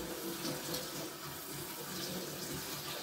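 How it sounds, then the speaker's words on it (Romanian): Cold tap water runs steadily from a faucet over eggs in a kitchen sink, a continuous close splashing rush that holds even for the full few seconds. "Dar dăm cu apă rece numai decât."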